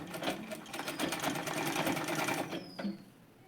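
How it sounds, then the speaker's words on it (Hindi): A sewing machine stitches along the fabric edges of a scissors organizer made from waste fabric, a rapid close mechanical whirring run that stops abruptly near the end. "किनारी किनारी पर स्टिच लगाऊंगी बिल्कुल"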